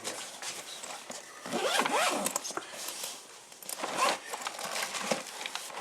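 Protective plastic film is peeled and crinkled off Tesla Model X parts, with close, irregular ripping and rustling bursts that rise and fall throughout.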